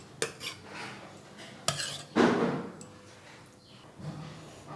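Raw banana kofta curry is served from the pan into a bowl, with a few sharp metal spoon clinks and scrapes against cookware, close and fairly quiet, with no talk.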